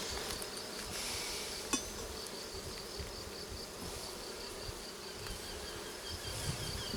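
Honeybees buzzing around an open hive during an inspection, a dense steady hum of many insects close by with occasional faint knocks from the frames.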